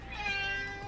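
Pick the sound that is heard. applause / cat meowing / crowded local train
cat meowing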